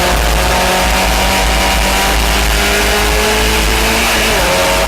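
A historic Formula Ford race car at Silverstone accelerates hard out of a corner with a steady, loud engine drone and a gear change, heard from a distance amid continuous track noise.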